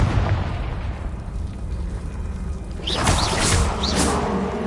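A Confringo spell explosion in the video game Hogwarts Legacy, a rumbling blast that swells midway with whooshing debris and bright crackles over a continuous roaring background.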